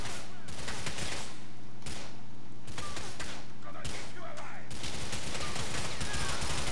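Rapid bursts of gunfire from Grand Theft Auto IV rattle in repeated volleys with short gaps between them, loud and dense throughout.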